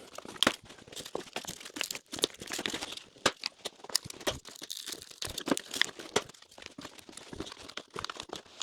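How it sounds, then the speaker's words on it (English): Plastic push clips being pried out with a trim tool on a 2024+ Jeep Wrangler Rubicon JL grille, giving dense crinkly snaps and creaks of plastic in irregular bursts, close up and with no talking. "There is, again, a couple of plastic push clips that we'll need to get popped out. Again, I'm using just this trim tool here"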